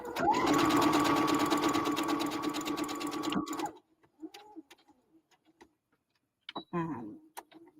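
A sewing machine stitches steadily and loudly for about three and a half seconds, running across a cross seam before stopping; afterwards come a few faint handling clicks and rustles.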